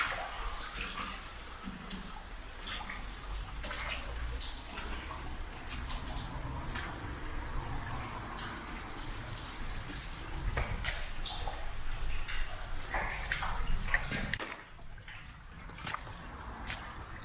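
Water flowing through a medieval culvert under a Leicestershire brook, a faint steady trickle and drip heard outdoors, with a brief dip in the sound near the end.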